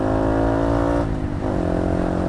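A scooter engine hums steadily at close range with a brief dip in pitch midway, as if shifting, then rises again while accelerating toward 60 km/h.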